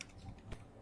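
Typing a web address on a computer keyboard, a short run of soft key taps with one sharper keystroke, close and quiet.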